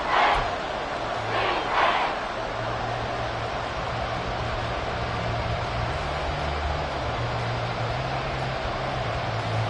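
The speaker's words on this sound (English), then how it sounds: "Well, this crowd into it now." Stadium crowd in the Madden 24 football video game, a steady roaring wash of cheering with a couple of louder swells near the start and a low sustained hum underneath, no voices.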